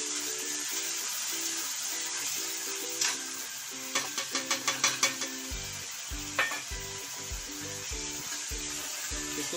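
Ginger-garlic and onion paste sizzles steadily while being stir-fried for chhole, with a spoon scraping and clinking against the pan in quick bursts, followed by rhythmic stirring knocks.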